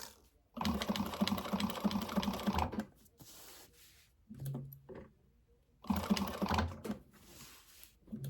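Sewing machine running a 1/8 inch top stitch in short bursts of rapid, close stitching, separated by pauses, with a brief voice between runs.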